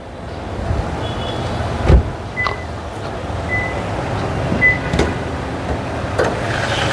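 A used Toyota Allion sedan idles with its hood open, giving a steady low engine hum with a few faint clicks and taps over it.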